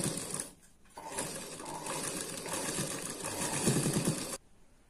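Sewing machine stitching a half-inch seam on a princess-cut blouse sleeve, a loud continuous mechanical whir running for about three seconds after a short quiet start, then stopping abruptly.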